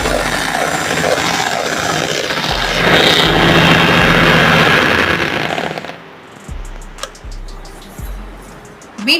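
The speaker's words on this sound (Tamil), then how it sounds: "இப்போ இதை வந்து பீட்டர் வச்சு நல்லா பீட் பண்ணி எடுத்துக்கலாம்." An electric beater whips eggs with chilli powder and salt for crunchy egg fingers, giving a loud, close motor whir for about six seconds. It then stops, leaving a few scattered taps and knocks.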